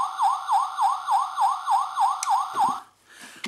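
A Transformers Universe Hardhead toy siren wails in a rapid repeating up-down cycle, about nine even electronic whoops, then cuts off, followed by faint clicks.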